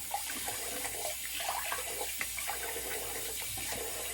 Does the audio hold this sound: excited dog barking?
no